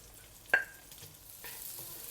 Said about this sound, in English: Fry them for a while until you can smell the beautiful fragrance coming out from it.